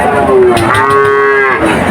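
A cow at a cattle market lets out a single loud, long low moo close by, steady and drawn out for nearly two seconds.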